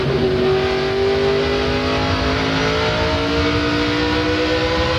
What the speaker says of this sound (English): a lot of these guys downshifting in these very tight corners